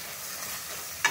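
A spoon stirs fenugreek greens in a hot pan, a brief scraping sizzle with a sharp clink at the end.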